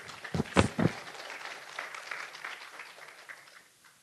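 An audience at a film screening in a theatre gives a round of applause to welcome a speaker, a few sharp claps up front followed by a softer, thinning patter that fades out.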